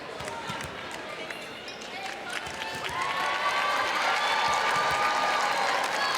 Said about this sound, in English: The fans cheering the person who helps mop up the floor.